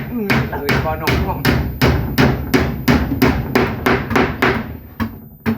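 Hammer blows drive nails into wooden boards during house construction, about fourteen sharp, loud, evenly spaced strikes in steady rhythm, close by with no talk.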